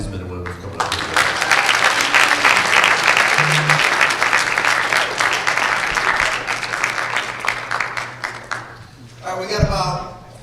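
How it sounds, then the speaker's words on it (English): Loud, sustained audience applause fills a high school auditorium after a student presidential debate, a dense wash of clapping that swells, holds for several seconds and tapers off, with a brief voice near the end. "let's give a round of applause to these men and women for coming up here."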